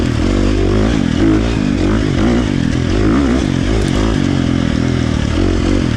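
A KTM 350 XC-F dirt bike with a tuned Vortex ECU runs hard in third gear, its engine a loud, steady, close-up drone with a rough, buzzing harmonic texture and slight pitch wavering throughout. No one speaks.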